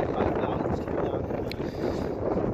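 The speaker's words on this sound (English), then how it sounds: "Boy, that wind is killer" Strong, gusty wind buffets the microphone outdoors by an abandoned Super Kmart in Uniontown, Pennsylvania: a loud, continuous low roar that swells and dips slightly without let-up.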